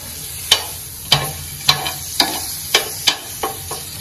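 Food fries in butter in a pan with a constant low sizzle, broken about every half second by crisp scraping taps from a spatula.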